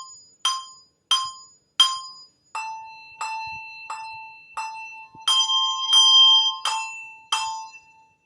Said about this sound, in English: Thumb damp is you actually put your thumb on the bell and you go.